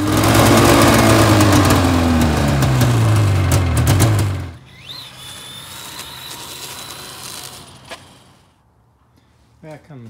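John Deere 445 lawn tractor engine running loud and close for about four seconds with a wavering pitch, then cutting off abruptly, leaving faint background noise and a brief sound near the end.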